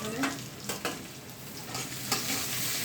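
Ginger and garlic frying in a pan, a close, steady sizzle and crackle with a few louder spits and stirring scrapes.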